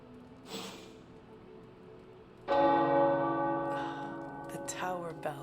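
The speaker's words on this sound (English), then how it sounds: "The tower bells are ringing." Tower church bells ring out in Marvel's Midnight Suns video game, a loud sustained peal bursting in after a quiet stretch and ringing on with layered overlapping tones, a brief faint sound beforehand.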